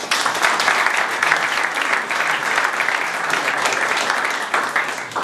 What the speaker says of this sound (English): I didn't even ask him to applaud